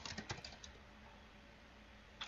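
Quiet keystrokes on a computer keyboard: a short burst of clicks at the start, a near-silent pause, then a few more taps at the end.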